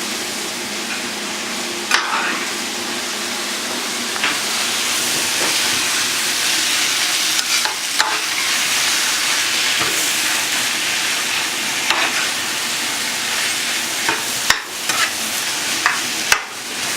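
Pad thai with bean sprouts stir-fried in a pan gives a steady sizzling hiss throughout, with scattered clicks and scrapes of stirring rising briefly above it, close and fairly loud with no talk.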